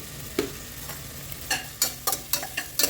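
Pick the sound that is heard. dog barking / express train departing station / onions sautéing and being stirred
onions sautéing and being stirred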